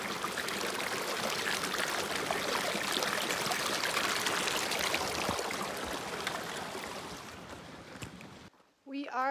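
Stream water rushing during a river crossing on the Tahoe Rim Trail, a continuous close babbling flow that fades slightly near the end before a brief voice is heard.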